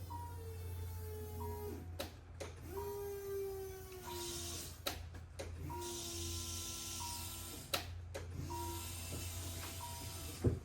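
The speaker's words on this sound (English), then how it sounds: "So I prime it like 3 or 4 times until I hear the fuel pump blow it up." Electric fuel pump in a car priming with fresh gas: repeated whining buzzes that rise and fall over a constant low hum, cycling several times with clicks between bursts.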